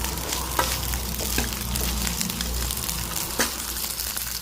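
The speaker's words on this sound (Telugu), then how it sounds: "ఇంకా బెండకాయలు అయితే మాడకుండా ఇలా కలుపుతూ ఉండాలి." Okra (bendakaya) sizzles steadily in hot oil in a pan over a low flame while being stirred for a curry, with a constant close frying hiss and a few scraping clicks from the stirring.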